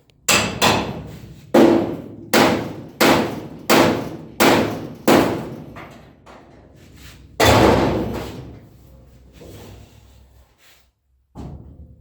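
A heavy hammer strikes a car door hinge in loud, close metallic blows: a run of about seven evenly spaced hits, a pause, one more big strike, then quieter knocks.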